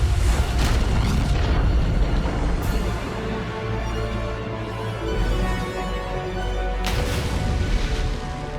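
Explosion effects on the Bumblebee (2018) film set: a loud, sustained rumbling blast with deep low boom and crackling debris, a second burst rising near the end, no talking heard.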